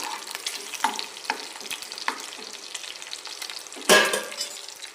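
Slit green chillies sautéing in a little oil with salt, a steady close sizzle broken by scraping stirs and one louder burst of crackling.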